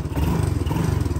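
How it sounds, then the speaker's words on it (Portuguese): A small motorcycle ridden at a countryside farm by a girl learning to ride, its engine giving a steady, close low chugging drone with a rapid pulsing rhythm throughout, no voices over it. "Camila veio pro sítio, tá aprendendo a andar de moto."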